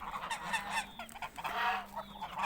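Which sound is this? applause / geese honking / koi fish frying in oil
geese honking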